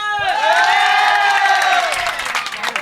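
Crowd at the Gabtoli cattle market cheering and whooping loudly, a dense sustained burst of shouts that swells, then fades into scattered voices.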